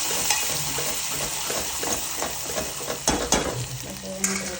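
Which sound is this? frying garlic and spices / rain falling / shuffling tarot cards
frying garlic and spices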